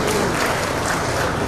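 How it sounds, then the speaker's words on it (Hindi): A crowd gives steady applause to welcome a state minister at a World Environment Day state-level event in Bhopal. The dense clapping forms a continuous wash of sound through the short moment. "हम सभी को तालियों के साथ स्वागत करते हैं"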